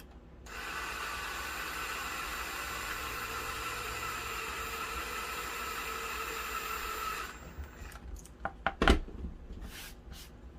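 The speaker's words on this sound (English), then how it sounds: "And drill a hole." A drill whirs steadily for several seconds, then stops, followed by a few sharp knocks and clatters.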